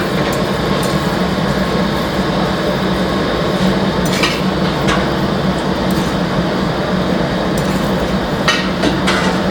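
Mutton fries in cooking oil in a karahi, a loud, steady sizzle that runs throughout, with sharp metallic scrapes and clinks as it is stirred.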